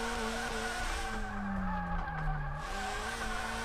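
Subaru BRZ with a four-cylinder engine drifting in the racing game DRIFT21, tires squealing steadily over a droning engine note that dips and rises in pitch as the car slides through a turn.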